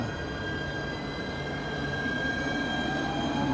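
Metro train rolling in with a steady rumble and rising wheel squeal, close by and continuous, no voices.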